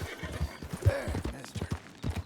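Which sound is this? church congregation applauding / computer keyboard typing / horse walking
horse walking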